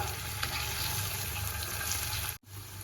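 Paneer cubes fry in a pan over a medium flame, giving a steady, dense sizzle that holds evenly and then cuts off abruptly near the end.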